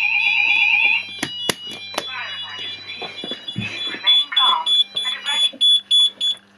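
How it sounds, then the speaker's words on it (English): A smoke detector sets off a fire alarm during a fire alarm system test, its loud, steady electronic tone pulsing for about a second before cutting out, followed by sharp clicks and someone talking. "that was a detector went off"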